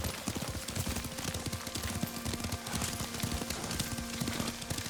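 Hooves of a horse ridden in the video game Ghost of Tsushima, steady clip-clop beats under a continuous noisy game ambience, with no voices.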